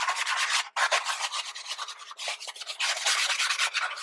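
A Scrub Daddy sponge scrubs a kitchen sink in steady back-and-forth strokes, giving a loud, close, continuous rubbing rasp with one brief pause early on and no talking.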